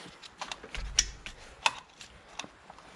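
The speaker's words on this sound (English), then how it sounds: "I think it's easier for me to just unbolt the bracket with a 12mm wrench." Metal clicks and ratcheting ticks of a 12mm wrench unbolting a bracket on a 1996-2001 Toyota Camry 1MZ-FE V6 engine, a few sharp close taps spread irregularly over a quiet background.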